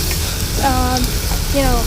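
Moringa flowers sizzle in a hot pan with a steady close hiss and crackle, while a voice speaks in brief bursts over it.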